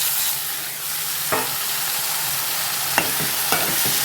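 Tomatoes drop into a sizzling tempering of oil and green chillies for a dried-fish curry, giving a steady loud frying hiss with a few sharp spatula scrapes and stirring clatters, no voices.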